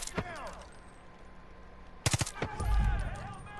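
Gunfire in Far Cry 5 during an outpost takeover: a single sharp shot, then a tight burst of rapid shots after a pause, followed by a low rumbling impact, with faint voices in the background.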